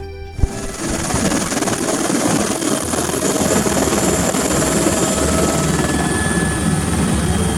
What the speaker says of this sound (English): I was nervous but excited for our flight with Rainbow Helicopters